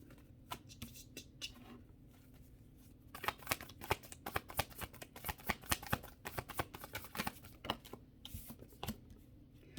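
Tarot cards are shuffled in quick, crisp bursts of riffling and tapping, close and fairly quiet, with brief pauses between bursts.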